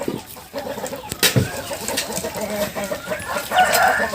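Young chicks aged one and a half to three months and grown chickens cluck and peep steadily at feeding time, with a brief louder squawk among the continuous flock chatter.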